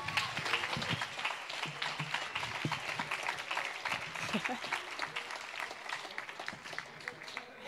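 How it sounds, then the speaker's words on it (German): Audience applause at a poetry slam welcoming a performer to the stage, dense steady clapping sustained throughout, with scattered cheers and voices mixed into the crowd noise. "Begrüßt sie mit einem frenetischen 10-Punkte-Applaus für euch"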